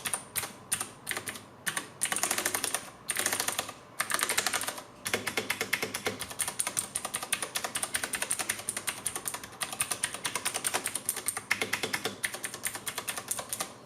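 Clicky typing on a Ducky Shine 7 RGB mechanical keyboard with blue switches, bursts of keystrokes at first, then fast continuous clattering, close and crisp with no voices.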